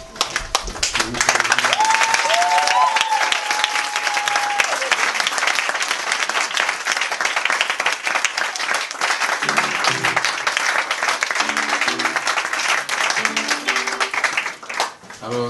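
A church congregation standing and applauding, sustained dense clapping throughout, loud and near, with a brief sung or whooped voice early on and scattered cheers and voices mixed in.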